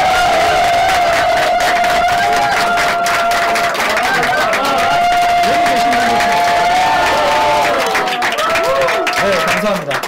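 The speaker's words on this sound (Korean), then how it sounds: "순전히 여러분들의 면역을 위해서 함성과 박수를 칠 건데" A lecture-hall audience at a health talk cheers and claps loudly, a dense, sustained roar of shouts and applause close around, with a voice speaking over the noise.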